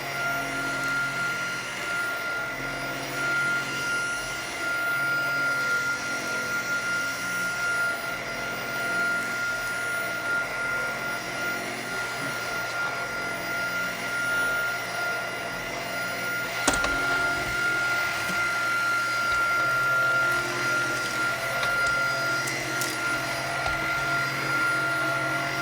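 A Tineco cordless vacuum cleaner runs on low speed with a steady, even whine and hum that holds unchanged throughout, with no talking.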